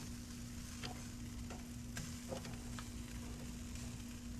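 Pork steaks seasoned with Lowry seasoning sizzling softly over direct heat on an Oklahoma Joe's Canyon Combo gas and offset smoker, a steady low crackle with scattered small pops and a constant hum beneath.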